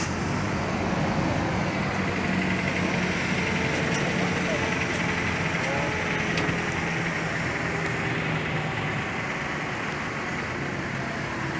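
A 2500 cc diesel engine idles on a Toyota Fortuner: a steady, even rumble with a broad noisy hum, continuous and unchanging throughout.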